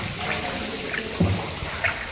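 Water flows strongly through the Palawan underground river at low tide, a steady close trickling, splashing rush with brief small splashes.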